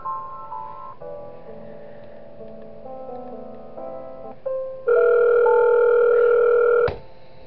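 Synthesized phone ringing tones in Five Nights at Wario's, a series of steady electronic tones shifting pitch, then a louder sustained chord that cuts off sharply near the end, alone without speech.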